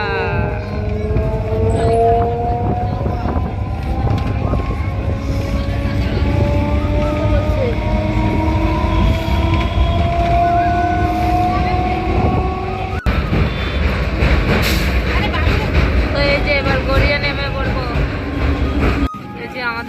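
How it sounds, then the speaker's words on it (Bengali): A train on the Puri to Kolkata route, near New Garia, rolls along the tracks with a loud, continuous rumble and rising, drawn-out metallic whines, while voices talk faintly nearby. "ট্রেনটা চলে যাচ্ছে"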